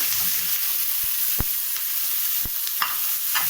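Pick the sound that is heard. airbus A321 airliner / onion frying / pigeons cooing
onion frying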